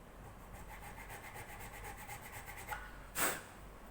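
A file cleans up the nut slot on a ukulele in quick, even rasping strokes that are quiet and close, ending with a brief louder scrape.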